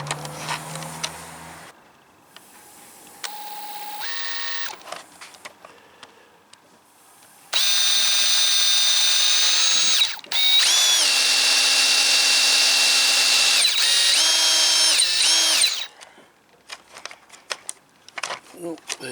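A power drill bores a hole in a broken plastic dash tab on a Holden car, whining in bursts of varying pitch, with two long, loud runs in the middle and short stop-start pulses before and after.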